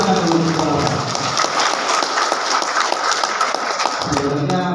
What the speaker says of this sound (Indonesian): Tepuk tangan dulu Bapak.